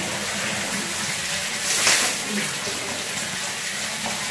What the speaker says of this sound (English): you take the same bucket and put it right over your head